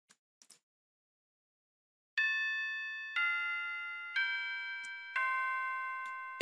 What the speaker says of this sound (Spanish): El sonido de la campana sonaba durante la noche.